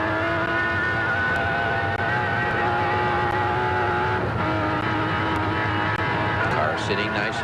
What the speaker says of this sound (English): You can hear the overrun of the engine when it just hits some of the bumps